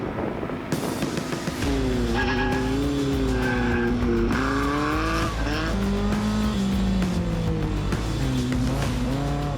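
A race car on a track screeches through a long tire skid, its engine roaring loud and close with rising and falling revs for several seconds.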